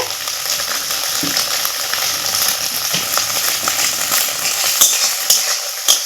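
Egg frying in oil in a wok for restaurant-style chow mein, a continuous dense hot sizzle close up with a few light scrapes and taps near the end, no speech.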